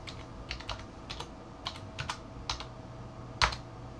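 Keys tapped on a computer keyboard while a track name is typed into GPS mapping software: a dozen or so light, irregular clicks, close and quiet, ending in one sharper keystroke.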